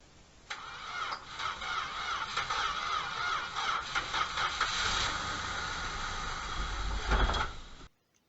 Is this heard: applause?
no